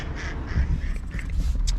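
Ducks quack several times near a farm grain storage facility, short nasal calls repeating over a low rumbling outdoor background.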